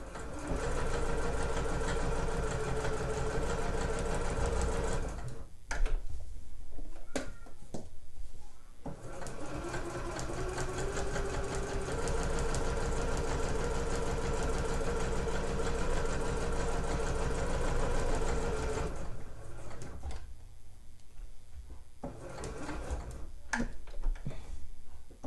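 A sewing machine stitches tapes onto a cable knit poncho, running steadily at close range for long stretches with a few short pauses.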